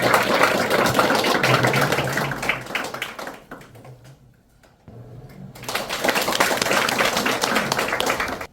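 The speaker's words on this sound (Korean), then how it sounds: "큰 박수로 교수님을 모시겠습니다" An audience at a seminar gives loud, dense clapping to welcome a professor; the applause fades to near silence in the middle, then swells back up just as full.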